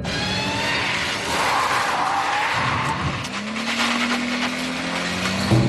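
A car on a Canada's Worst Driver driving course skids with loud, sustained tire squeal as it shifts quickly from reverse to drive, the screech turning into a rising engine tone midway.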